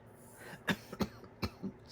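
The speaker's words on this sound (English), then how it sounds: "Oh, I've had this cough going on." Three short, muffled coughs in quick succession, close by, with a faint throat sound between them.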